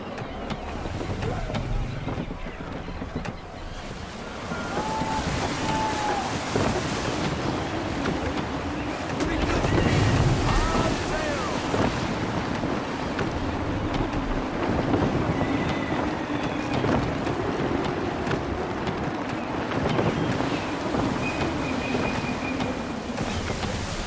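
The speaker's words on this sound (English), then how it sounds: "Wind looks to be shifting. Stay alert, Connor. Gusty winds can be difficult to manage." Gusty wind buffets a sailing ship in the video game Assassin's Creed 3, a rushing roar with swelling gusts over creaking hull and water sounds, while voices speak intermittently over it.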